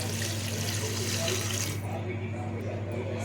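Water pours from a tap into a cooking pot of softened tomato, a loud, continuous rushing splash that thins out partway through.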